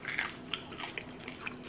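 Crunchy bites into crispy air-fried lechon kawali pork skin, a quick series of sharp crackling crunches and chewing up close, loud and alone with no talk.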